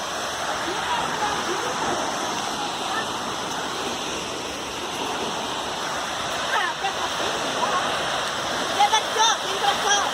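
The Véu de Noiva waterfall in Barra do Turvo, São Paulo roars in a constant, broad rush of falling water. People talk quietly now and then under the steady wash.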